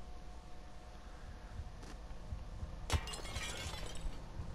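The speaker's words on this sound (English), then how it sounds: "Special windows like this one can be smashed." A special glass window smashed in the video game Manhunt: a single sharp shatter, followed by tinkling shards and a short crackle over a low, quiet background hum.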